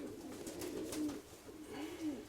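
A large, dark, heavy pigeon coos nearby in a series of soft, rolling low calls, repeated several times with brief pauses.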